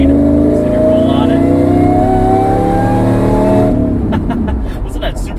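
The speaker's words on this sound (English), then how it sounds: "Listen to that supercharger whine." A supercharged 5.4-liter V8 in a Ford SVT Lightning pickup accelerates hard with a loud, rising supercharger whine over the engine roar, then lifts off into a rougher, fading exhaust burble.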